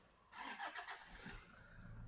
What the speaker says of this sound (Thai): เดี๋ยวผมลองสตาร์ทให้ฟังเสียงเครื่องยนต์นะ